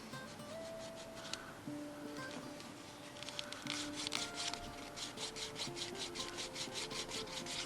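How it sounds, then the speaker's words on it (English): A wooden burnishing tool is rubbed quickly back and forth along the edges of a leather slim wallet, giving a close, continuous friction sound that turns into a rapid rhythmic rasping toward the end. "So you want to polish it, burnish it until you get a nice black sheen on it."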